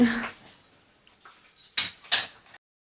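A spoon stirs pineapple mixture in a metal pan just taken off the stove, giving a few scattered clinks and scrapes. A voice is heard briefly at the start.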